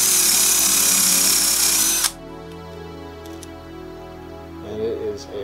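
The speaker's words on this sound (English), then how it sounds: "we're now up to a quarter inch drill bit" A power drill with a quarter inch bit bores steadily and loudly for about two seconds while modifying an airsoft shotgun revolver, then cuts off abruptly, leaving faint handling noises and a short murmur near the end.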